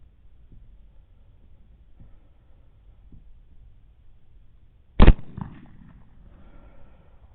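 A single sharp rifle shot fired at a coyote about 30 yards away during a hunt, a loud crack following quiet outdoor ambience, then a brief fading echo.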